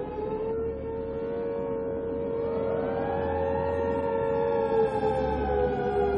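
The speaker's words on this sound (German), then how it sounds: "Wie jedes Mal heulen im Hafen die Sirenen zur Begrüßung." Harbor sirens wail together over the port as the Hindenburg airship arrives over Manhattan, long sustained howling tones rising and gliding in pitch, loud and continuous throughout.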